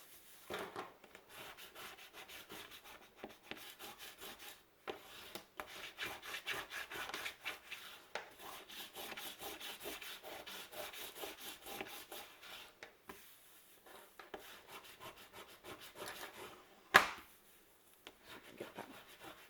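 Glued paper on a lotus flower mini album is rubbed smooth by hand, giving close, faint, repeated scratchy strokes in irregular bursts with brief pauses and one sharp knock near the end.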